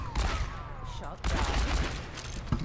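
Rapid bursts of gunfire from the video game Overwatch, loud and layered with game effects, while a player talks over the shooting.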